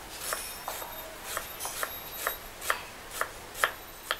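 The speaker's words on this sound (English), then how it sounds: "We take the skin, the ginger, and cut very thin also." Knife chopping thin slices of ginger on a cutting board in a Khmer cooking school kitchen, about ten light, crisp taps in a steady, unhurried rhythm, close and fairly quiet with no talk.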